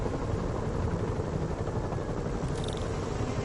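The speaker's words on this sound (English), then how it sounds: "Bet I can use those helicopters to swing" Helicopter rotor noise in a Spider-Man video game, a steady low throbbing drone that fills the scene without pause.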